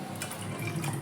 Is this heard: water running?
yes